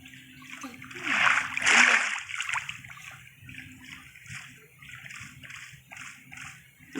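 Swimming through water in Minecraft makes repeated splashing bursts, two loud surges early and then a rhythmic run of softer, evenly spaced splashes, with faint low voice-like sound beneath.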